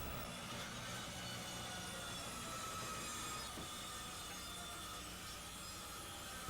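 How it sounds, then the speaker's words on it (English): A power saw cuts through wooden decking boards in a 1987 deck-building job, the blade set shallow to avoid the joist underneath; a steady, loud, continuous grinding whine runs unbroken throughout with no talking. "The saw blade is set to cut just through the decking."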